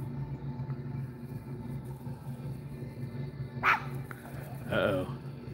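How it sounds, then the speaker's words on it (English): A Chihuahua barks outdoors, with two short sharp barks a second apart rising over a low steady background hum. "So she's going to go bark at the nothing."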